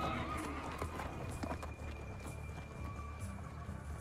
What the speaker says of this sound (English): Here we are, riding on a horse.